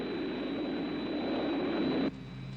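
An aircraft engine drones in a steady, loud, broadband roar with a faint high whine, then drops abruptly in level near the end.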